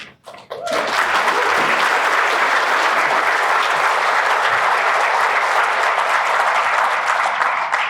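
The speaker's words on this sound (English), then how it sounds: "one more round of applause, please, for all of the 2024 Beautification Awards winners" Sustained applause from a banquet crowd at an annual awards dinner, breaking out after a moment of quiet and holding loud and even for several seconds.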